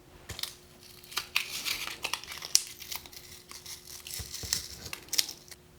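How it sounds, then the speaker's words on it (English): Tape is peeled and crinkled off a set plaster slip-cast handle mold, with close crackling, tearing bursts and soft crumpling rustles coming in irregular spurts, no voices. "let's go ahead and remove the tape so that this outer edge can start drying as well"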